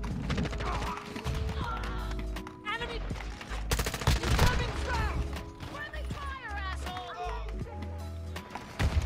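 M4 rifle fire in a shooter video game: rapid bursts of gunshots repeat across the moment amid other in-game effects and tonal interface sounds, with a player's voice talking over the action.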